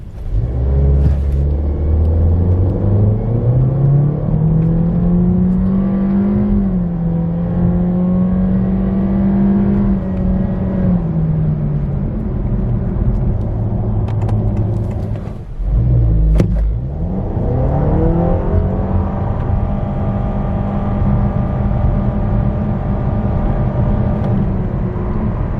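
A 2023 Honda ZR-V with a 1.5 turbo engine accelerates hard, its loud engine note climbing in pitch through the gears, dipping briefly at a shift around midway, then rising again in a long continuous pull.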